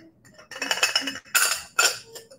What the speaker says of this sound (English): some good size ice cubes, our giant ice cubes here.